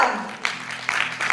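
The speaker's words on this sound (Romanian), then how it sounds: "Să-i aplaudăm!" Concert audience applause at an anniversary show for a children's solidarity group, brief bright clapping with a few sharp accents under a faint sustained tone.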